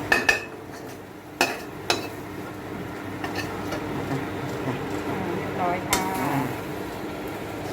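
Pork stir-fried with holy basil and garden bird's eye chilies, with water added, in a home kitchen: a spatula clanks sharply against the pan a few times over a low steady sizzle and background hum.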